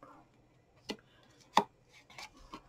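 Scissors snip a paper strip for a gift box in a few sharp, separate cuts, close up and fairly quiet against a near-silent background.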